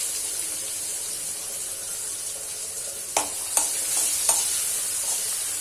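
Tomato, ginger paste, red chili powder and turmeric fry in hot oil with a steady close sizzle, broken by a few sharp clicks of stirring near the end; no one speaks.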